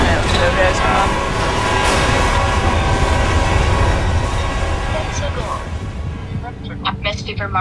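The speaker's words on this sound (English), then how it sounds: "there's a train coming." A train passes close by with a loud, continuous rumble and rolling clatter that fades toward the end, while voices can be heard over it.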